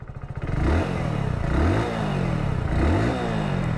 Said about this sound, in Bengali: তোমাদেরকে আমি একটা এক্সস্ট সাউন্ড শুনিয়ে দিই।